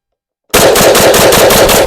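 Steyr AUG A3 M1 rifle firing a rapid string of rounds at an outdoor range with a high berm, loud evenly spaced sharp reports starting abruptly after a brief silence and continuing without pause.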